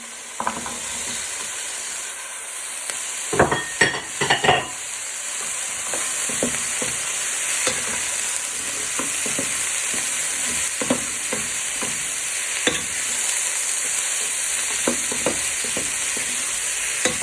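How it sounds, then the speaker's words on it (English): Carrots stirred into a frying cottage pie mince mixture in a pan: continuous sizzling with a cluster of scraping stirs early on, then scattered spoon knocks over the steady fry. "Give the carrots and the mixture a stir for 2 to 3 minutes."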